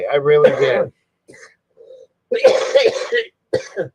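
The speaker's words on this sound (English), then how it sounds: "if you heard my cough in the background" A man coughs in the background between stretches of nearby talk, with a few short, muffled coughs spaced through the middle of the clip.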